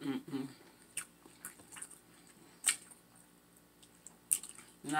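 Bites and chewing on a turkey leg with hot sauce during a mukbang, giving scattered soft crunches and squishy mouth sounds close to the mic, with a few sharper bites standing out over quiet background.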